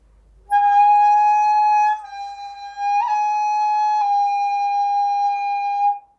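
A Japanese wind instrument sustains the single note called u, a clear, steady tone with bright overtones held for several seconds with slight shifts, alone in a quiet room.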